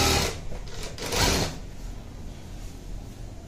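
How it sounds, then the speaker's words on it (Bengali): An MH-380 chain stitch sewing machine gives a short burst of rattling mechanical stitching, loud at first, then fading into quieter machine noise. "আমাদের প্রেশার ফিট লাগানো শেষ, আমরা এখন সুতা লাগায় সেলাই করব।"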